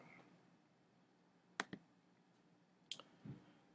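A few sharp, quiet mouse clicks land in a near-silent room, a close double click followed by another pair of faint taps, with no voice over them.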